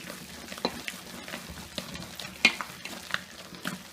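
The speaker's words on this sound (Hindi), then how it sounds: "इस तरह एक ही डायरेक्शन में दाल को फेंटते जाएं।" Urad dal batter is beaten by hand in a deep bowl, giving soft wet slaps and squelches at an irregular rhythm, fairly quiet and close, with no talking.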